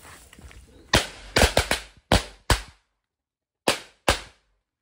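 Firecrackers buried in the ground burst in a rapid run of sharp, loud bangs, then fall silent before two more cracks go off, each with a brief ringing tail.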